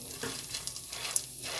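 Popcorn kernels are stirred in a hot pot before popping, a faint, steady sizzle with a few soft scraping touches, brief and close, with no talk.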